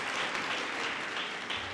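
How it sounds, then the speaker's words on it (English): Graduates at a May 2023 graduation ceremony give themselves a round of applause, a steady dense wash of clapping that holds at even loudness throughout the short stretch. "a round of applause."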